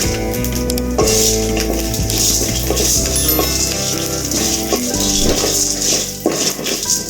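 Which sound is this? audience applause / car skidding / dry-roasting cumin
dry-roasting cumin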